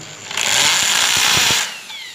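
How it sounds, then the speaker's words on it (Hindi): An electric drill whines loudly at high speed while being loaded during a home test of a digital ampere meter, the tone steady for about a second and a half with faint knocking beneath, then winding down, with no talking. "अब मैं अगर ड्रिल को लोड करता हूँ,"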